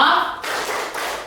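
A group in a school learning-community session claps a short rhythmic pattern, a few sharp claps close by.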